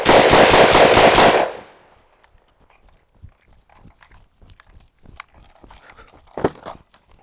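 A Soviet SVT-40 rifle firing: a loud, sustained blast of rapid gunfire up front, fading into quieter scattered clicks and knocks.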